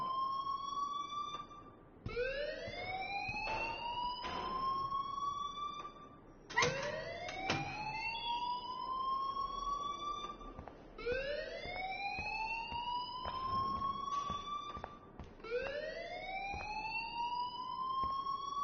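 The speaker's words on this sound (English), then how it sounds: "please turn off that alarm since that's your job" An alarm in the video game Life is Strange wails in repeated rising electronic sweeps, about every four and a half seconds, steady and fairly loud with faint background noise.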